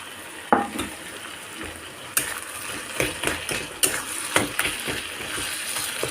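Dried fish being mixed and fried in a pan, a soft continuous sizzle with repeated scraping and clinking of a spatula against the pan in uneven stirring strokes.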